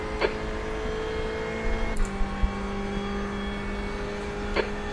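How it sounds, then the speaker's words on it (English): Race car engine in a multiclass GT racing game at Monza, a steady high tonal drone holding pitch with faint shifts and a few short clicks over it. "there's a faster car approaching"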